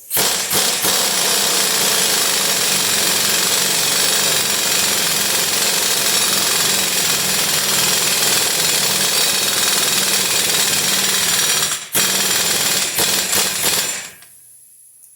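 Pneumatic impact wrench on a leaky air hose running lug nuts onto newly installed wheel studs of a 1955 GMC, a loud continuous hammering rattle for about twelve seconds, a brief break, a few short bursts, then quiet.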